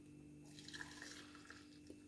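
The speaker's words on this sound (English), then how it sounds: "Let's pour some hot water." Hot water is poured into a glass holding fresh thyme sprigs and two slices, a faint, steady trickling fill heard up close without any talking.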